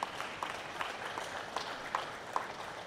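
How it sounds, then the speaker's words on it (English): Applause from a crowd at an outdoor International Women's Day event at Dandenong Market, heard faint and distant as a steady patter of many hands. "give Nush and Linda a great big round of applause."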